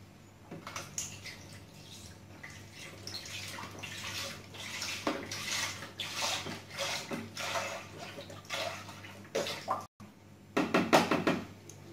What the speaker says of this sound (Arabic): ثم كنصب فيه ديك نصف لتر حليب،